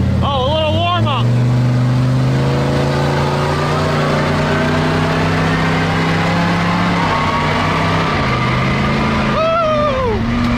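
A turbo LS engine in a mega truck warms up, a loud close throaty drone holding steady with a few rises in pitch, while people talk and cheer over it.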